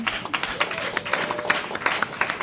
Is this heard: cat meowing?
no